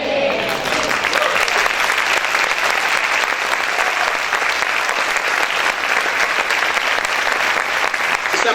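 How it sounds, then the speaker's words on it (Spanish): A church congregation applauds loudly and steadily, a dense wash of many hands clapping that fills the whole stretch with little change in level. "Este aplauso es para el Señor"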